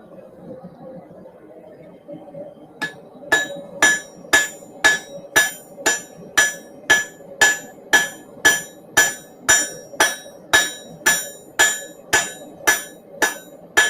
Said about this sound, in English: You are being efficient with every hammer blow.